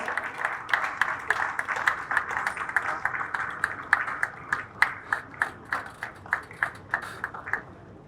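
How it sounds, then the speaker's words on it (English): Audience at a keynote address on large language models gives rhythmic, fairly even applause for the speaker, many hands clapping in time for several seconds before tapering off. "Let's give him a round of applause."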